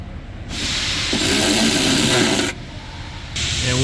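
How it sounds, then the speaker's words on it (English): A Chevy Equinox wiper motor assembly is bolted in with a powered tool, heard as close, hissing, whirring runs with a loud stretch in the middle and a short restart at the end. "Let's bolt everything in."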